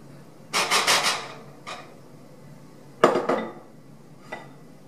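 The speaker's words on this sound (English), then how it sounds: "We're going to whisk these together and put it back on the heat" A whisk beats a chocolate pudding mixture of cream and milk in a pot. Quick rattling clinks of metal against the pot come in two short bursts, each followed by a faint tap.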